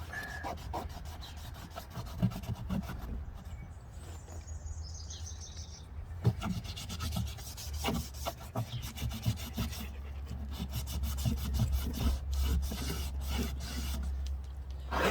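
Rag rubbing with acetone around the edges of a crack in a plastic wheelbarrow, a steady close scrubbing and rasping over a low hum, with faint bird chirps in the background.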